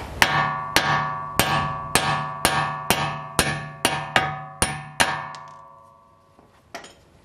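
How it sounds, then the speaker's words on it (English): A hammer strikes a wheel stud on a Mazda in about ten evenly spaced metallic clangs with ringing decay. The blows are close and loud, then a few faint taps follow. "So then you tap it to the top of stud."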